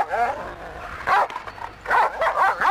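A small dog barks and yips in short bursts close by, with a voice audible between the barks in an indoor scene.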